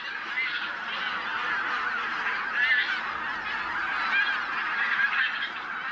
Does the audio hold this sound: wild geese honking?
yes